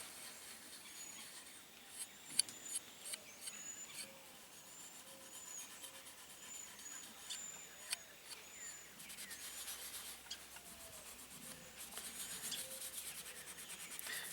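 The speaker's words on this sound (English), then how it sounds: "I'm removing old dirt and just a little bit of surface rust" An old axe head is rubbed clean of dirt and light surface rust, a soft, irregular scraping and scrubbing with small clicks, close and fairly quiet, without talk.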